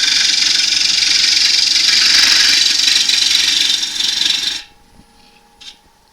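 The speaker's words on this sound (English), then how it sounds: "So if I start the lathe, I can show you what I mean." A wood lathe spins while a gouge cuts a beginner's bowl, making a loud, steady hissing shave for about four and a half seconds before the cut stops and only a faint motor hum and a brief tap remain.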